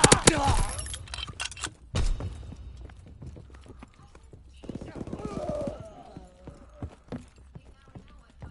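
Quick, hard-edged footfalls from a first-person shooter video game, several steps in uneven bursts with pauses between, mixed with background game noise and some low voice activity.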